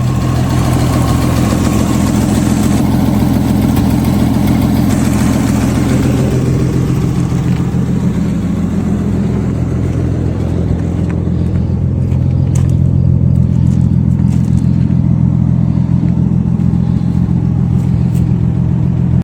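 A 1949-1950 Chevrolet Deluxe Coupe engine idles with a steady, loud, deep rumble close by, with slight throttle changes partway through and no talking.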